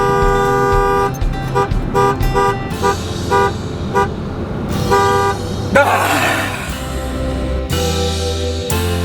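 A car horn toots in rhythmic repeated bursts, then one long blast, inside a short road tunnel in a Utah canyon, loud over a constant low engine and road roar.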